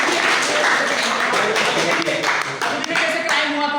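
Audience clapping at a cyber security awareness seminar in a school hall, a burst of fairly close clapping lasting a few seconds with some voices mixed in.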